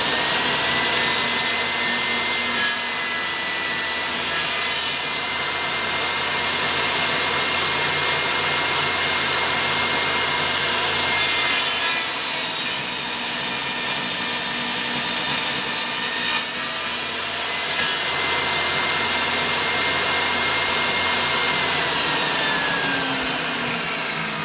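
A saw blade grinds steadily through a small wood chip, trimming an edge in a continuous loud rasping drone that runs without pause for over twenty seconds, close to the microphone.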